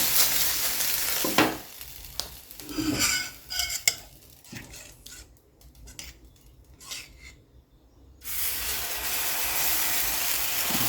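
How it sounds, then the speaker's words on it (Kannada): Wheat flour dosa batter sizzles on a hot pan, a loud crackling hiss broken by scraping and spreading sounds, fading briefly in the middle before the frying hiss returns strongly. "ನಾನೀಗ ದೋಸೆಯನ್ನು ಹಾಕಿ ತೋರಿಸ್ತೀನಿ."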